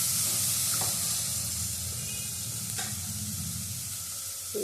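Finely chopped tomato frying in a pan for okra pulusu, a steady loud sizzle and hiss close up, with occasional stirring scrapes and no talking.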